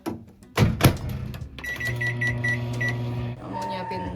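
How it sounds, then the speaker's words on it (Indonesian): A microwave oven heating food in a small apartment kitchen in Seoul: a door thunks shut, keypad beeps sound, then a steady hum runs for a few seconds before another beep. "Terus microwave pertama sekitar 3 menit."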